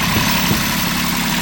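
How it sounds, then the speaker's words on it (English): The outboard motor on a 1996 Gemini 105M sailboat idles, a steady low droning hum, loud and unbroken throughout. "Kill that motor real quick"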